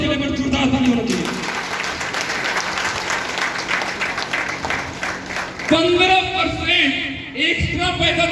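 Audience at a business talk clapping loudly for several seconds, a thick continuous patter of many hands, then the applause gives way to a speaker's voice at the end.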